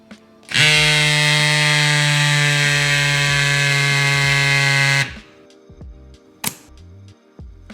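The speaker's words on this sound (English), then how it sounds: "one of these CYCPLUS mini electric pumps" A CYCPLUS mini electric pump inflating a bicycle tyre whines at a steady, high, buzzy pitch for about four and a half seconds. It then cuts off abruptly, leaving small clicks and handling noises.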